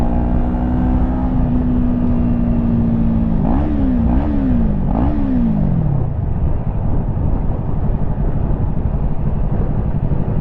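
A 2016 Yamaha YZF-R3 motorcycle engine runs steadily while riding, with a loud continuous drone, a few quick throttle blips in the middle, and wind rush throughout.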